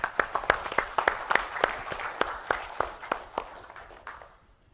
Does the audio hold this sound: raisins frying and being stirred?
no